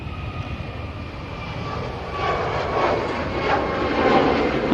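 Ryanair airliner departing Manchester Airport, bound for Malta: a steady jet roar that swells louder over the final seconds as the aircraft powers away, with no voices.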